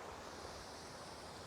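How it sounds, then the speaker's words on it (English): A small waterfall pours continuously, a soft, even broadband rush with no breaks, faint and steady throughout. "A nice little waterfall over here."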